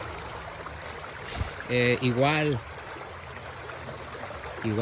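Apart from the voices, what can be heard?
water flowing in a stream (arroyo)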